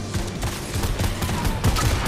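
Rapid gunfire in the video game Fortnite, with repeated sharp shots in bursts and volleys over about two seconds, fairly loud and steady against faint background game noise.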